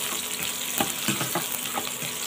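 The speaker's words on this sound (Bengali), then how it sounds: "এখন ঢাকানাকা করে একটু ভেজে নেব।" Onion frying in oil in a pan for a bitter gourd and hilsa fish dish, a close, steady sizzle with soft crackles and light stirring scrapes.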